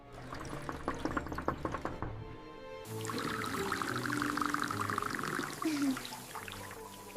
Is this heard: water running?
yes